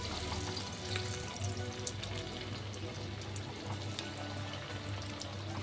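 Chicken cutlets fry in hot oil in a home kitchen, giving a steady, even sizzling hiss that holds at a constant low level throughout without other sounds breaking through.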